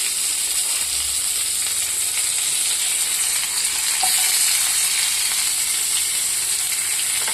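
Ginger, green chili, curry leaves and chopped onion fry in a hot pan, giving a dense continuous sizzle up close with faint scraping and utensil clicks, no talking.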